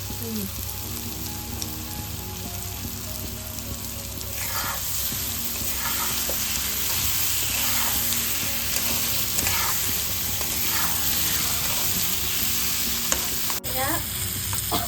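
Squash sizzles steadily as it fries in a pan over a low gas flame, with repeated scraping stirs of a utensil breaking through the hiss at a close, even level.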